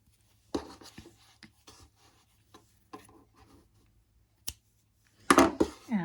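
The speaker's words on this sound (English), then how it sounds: "Now cut your yarn" Scissors snipping crochet yarn after finishing a simple wall hanging, preceded by light rubbing and handling noises, then a few crisp, close cuts near the end in an otherwise quiet room.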